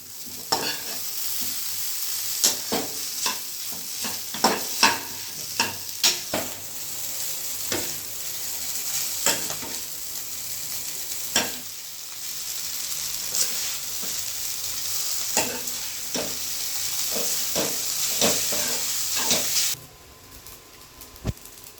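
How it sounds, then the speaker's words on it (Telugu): Spicy egg noodles fry in a hot pan and are stirred and tossed for about twenty seconds, a constant close sizzle broken by repeated scraping and clattering strokes of the utensil, before the sound stops abruptly near the end. "నూడిల్స్ యాడ్ చేసుకున్నాం కదా, దాన్ని మంచిగా మిక్స్ చేసుకుందాం."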